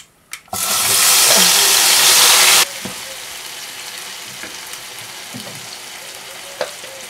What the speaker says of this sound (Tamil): பெருங்காயத்தூள் நல்லா பொரிஞ்சதும் தக்காளி போடுறேன்